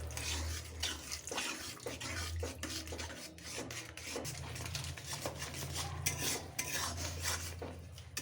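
Cornflour batter being stirred in a cooking pan for gobi Manchurian, a spoon scraping and clinking against the metal in quick repeated strokes, close and fairly quiet over a low background hum.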